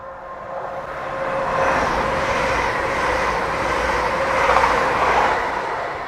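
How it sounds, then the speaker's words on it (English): An express passenger train, 1S93, races through Alnmouth station at speed, its broad rushing roar building, holding loud and steady, then easing slightly. "Train 1 Sierra 93 passing at speed."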